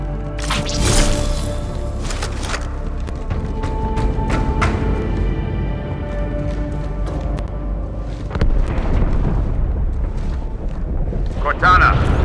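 A large explosion inside the ship Athens in the video game Halo 2, a deep rumbling blast with crackling debris that keeps roaring and swelling for several seconds amid a loud game soundscape with voices.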